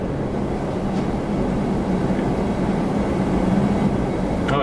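An Etihad airliner taxis at Toronto Pearson airport, heard as a steady, broad distant jet rumble with a faint whine, continuous and even with no talk over it.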